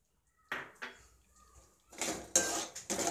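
A utensil stirs ingredients in a cooking pot for vegetable manchurian with pepper powder and salt. Metal clinks and scrapes come in short bursts separated by quiet gaps, close and fairly soft.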